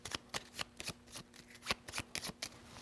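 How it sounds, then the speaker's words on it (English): A deck of playing cards for the Leviathan Wilds board game gets shuffled close up, a quick run of crisp riffling flutters and soft taps in an uneven rhythm. "So at the end of the round, all of these get reshuffled."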